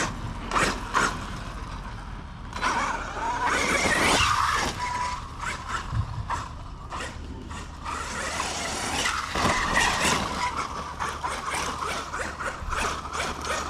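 A Losi Super Baja Rey 2.0 RC car drifts around an outdoor property among trees. Bursts of electric motor whir and gritty tire scrubbing rise and fall irregularly at moderate distance.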